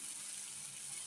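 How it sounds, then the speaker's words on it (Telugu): Water is poured into a pan of chicken curry cooking with chili powder and chicken masala, making a brief, quiet, steady gushing rush with no voices. "వాటర్ వేసుకుందాం."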